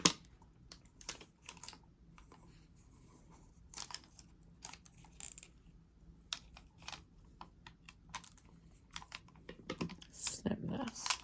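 Scissors snip through a craft cut-out, making scattered sharp close clicks and snips with pauses between them, more rapid cutting near the end, against a quiet room.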